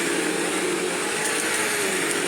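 A Bissell CleanView upright vacuum cleaner runs steadily on carpet, a loud, continuous whining roar close by with no break or talk.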